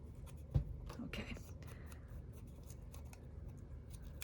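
Scissors make a single short, crisp snip through paper for a junk journal near the start, then a quiet room hush follows.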